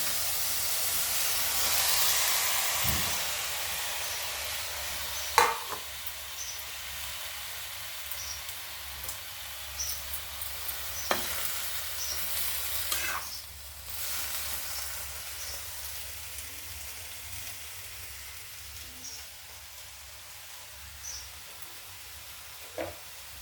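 Tomato pieces frying in a pan, a broad hissing sizzle that starts strong and gradually softens, broken by a few sharp clinks and scrapes of stirring, close by with no talk.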